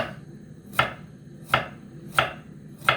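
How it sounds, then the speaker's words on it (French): Carrots being sliced with a knife on a cutting board for a cream-sauce dish, four crisp, evenly spaced chops with a sharp attack, close and clear against a quiet kitchen background. "maintenant, on va découper nos carottes"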